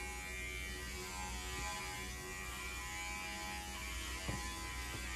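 Electric pet clippers hum steadily and close up while trimming a Havanese dog's thick coat along the lay of the hair, a continuous buzz with a couple of faint clicks near the end.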